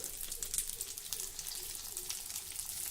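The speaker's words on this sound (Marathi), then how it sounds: "आता आपण ह्याची बाजू थोडी टर्न करून घेऊ म्हणजे सर्व बाजूंनी ह्या मिरच्या व्यवस्थित भाजल्या जातील" Green chillies roast in a pan with a faint, steady sizzle and light crackling as they are turned, quiet and continuous with no voices.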